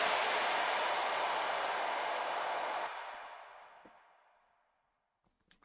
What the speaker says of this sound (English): Another white noise together with the impact sounds like this.